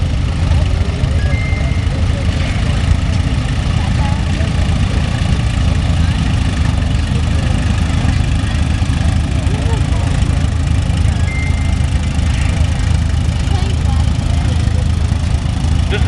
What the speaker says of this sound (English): Here we have an International 1256 owned by Dan Mulholland and driven by George